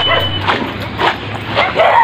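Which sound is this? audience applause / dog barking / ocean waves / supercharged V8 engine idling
dog barking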